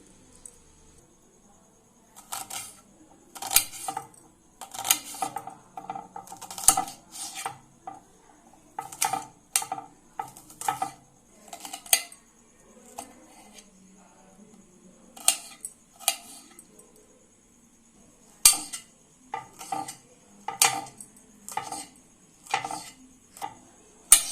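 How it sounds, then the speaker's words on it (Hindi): Knife chopping an onion into small pieces on a board, a steady series of crisp, close taps coming in quick bursts with short pauses between them, no voices. "एबे हमें पियाज को काटि नेबा छोट छोट करी"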